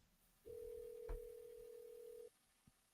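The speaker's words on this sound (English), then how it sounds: "Second live phone call today on the Sportscape." A single long, steady telephone tone sounds on an outgoing live phone call, about two seconds, clear and alone, ending abruptly before a faint click.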